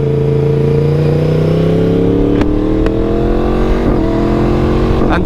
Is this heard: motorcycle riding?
yes